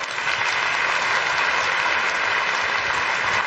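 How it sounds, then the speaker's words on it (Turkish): An audience applauds the winner of a Quran recitation competition, a dense, even wash of clapping that continues steadily and fairly loud throughout, with no voices over it. "Büyük bir alkışla Mustafa Altın."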